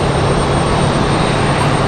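A Southwest Airlines jet departing an airport, heard as a loud, continuous broadband engine roar with no gaps or voices.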